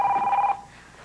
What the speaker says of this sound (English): I don't think 2 doctors can ignore a ringing phone.